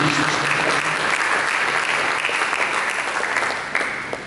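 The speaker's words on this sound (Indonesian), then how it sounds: "Mari kita berikan tepuk tangan bagi Yesus." A church congregation applauds during a sermon, giving dense, steady clapping from a large crowd that stays loud throughout before easing slightly at the end.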